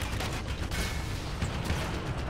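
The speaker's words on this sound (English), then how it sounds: "Why are there so many rockets?" Rockets fire and explode in the Renegade Ops video game as a dense, continuous rumble of blasts and bursts with no clear gaps.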